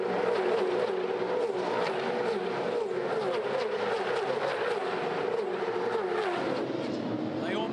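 V8 Supercars racing at the Clipsal 500 street circuit in Adelaide, cars flat out at around 245 km/h down the Peter Brock straight on Bartels Road toward turn 8; a loud, continuous engine roar with an excited commentator talking over it.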